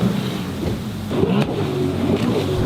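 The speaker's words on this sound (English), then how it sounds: "then you also need to hear a jet ski, because that brings you way more into the video" Jet ski engine added as an effect in an edited highlight video: a steady, loud, close motor drone with a brief rising rev partway through, running throughout.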